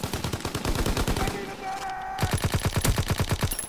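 An M3 grease gun submachine gun in Call of Duty WW2 fires in rapid, evenly spaced bursts, close and loud, then pauses briefly with a tonal game sound before another sustained burst.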